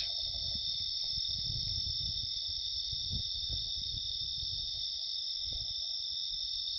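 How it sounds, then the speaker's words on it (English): Crickets and insects trill steadily at night in the Australian bush between Forsayth and the Clohesy River, a continuous high-pitched drone, with faint low rustling underneath. "You can certainly hear the insects and the crickets."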